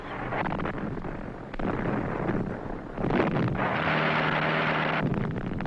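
Bomb blasts in 1967 archival documentary footage, heavy roaring bursts layered one after another, each swelling louder and rumbling on, with no voice over them.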